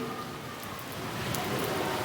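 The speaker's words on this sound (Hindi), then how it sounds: "बाहर अभी बारिश हो रही है" Heavy rain falling outside during a storm, heard from indoors near a doorway and window with water running down. A steady, dense hiss of downpour continues without a break.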